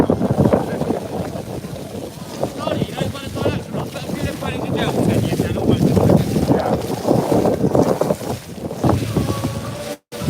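Gusty wind buffets the microphone on a wet, windy street in Wolverhampton, loud and rumbling throughout, with people talking underneath and a brief dropout near the end.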